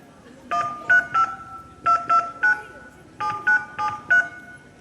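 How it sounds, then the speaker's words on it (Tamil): A run of telephone keypad tones, about a dozen short beeps in quick groups, with faint background murmur underneath. "சரி மதனிக்கு ஃபோன் அடிக்கலாம்"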